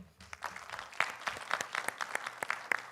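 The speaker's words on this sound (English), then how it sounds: "let us, start with a big round of applause" An audience at a medical technology conference in India breaks into a big round of applause, dense and sustained clapping from a large crowd filling the whole moment without talk.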